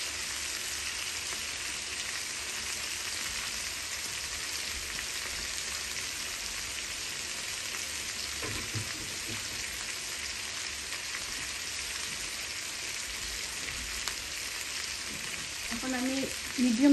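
Garlic frying in a pan for chicken curry, a steady even sizzle like light rain on a surface that keeps up throughout, with a few faint clatters near the end.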